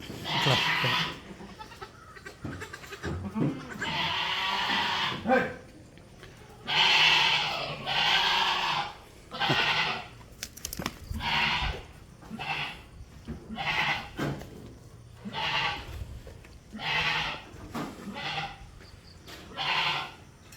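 Dairy goats and their young kids at a livestock sale bleat repeatedly, loud close calls in an irregular series with short pauses between.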